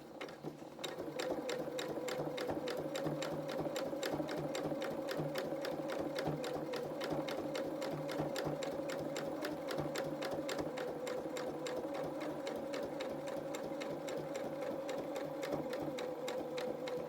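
A sewing machine stitching frills onto children's shorties, a long, even, rapid clatter of needle strokes with a steady motor hum, close and continuous.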